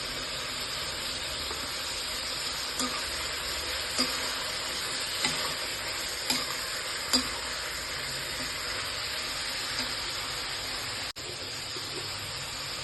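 Peas sizzle and hiss steadily in a hot pan while Vangi Bath cooks, with a few soft stirring scrapes and clinks rising above the constant frying noise and no voices.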